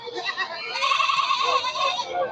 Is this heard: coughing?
no